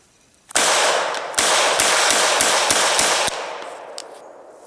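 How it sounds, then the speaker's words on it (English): A rapid burst of loud gunfire rips into the woods and strikes a tree, with several sharp cracks in quick succession over a booming outdoor echo that decays after the last shot. "I just shot into my woods. I shot a tree."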